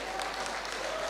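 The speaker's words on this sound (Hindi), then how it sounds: "तालियां बजाओ इनके लिए" Applause from an audience at a motivational talk on keeping parents happy, a short burst of steady, even clapping that fills the moment at moderate loudness.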